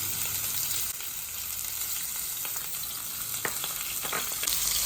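Butter sizzling hard in a hot pan as steak sears, a steady dense frying hiss with a few sharper pops and spatters near the end, no talking.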